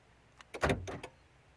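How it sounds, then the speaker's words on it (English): The power door locks on a Mazda 323C, also sold as the Ford Laser Lynx, actuate in a quick burst of short mechanical clunks and whirs, close and brief against quiet. "Passenger door is locked. Sorry, driver's door is locked."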